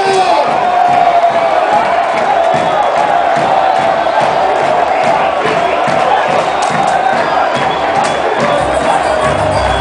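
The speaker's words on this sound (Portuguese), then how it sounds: "Eu queria uma salva de palmas para ela, em nome do seu presidente." A large crowd at a political rally for President Lula roars and cheers continuously, loud and sustained throughout, with a voice calling out over the din.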